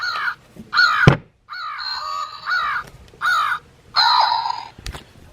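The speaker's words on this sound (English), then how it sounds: "American crow." A Wild Republic plush bird toy plays a recorded American crow call: a series of loud, harsh caws in separate bursts, close and clear, interrupted by a couple of sharp clicks from the toy's button.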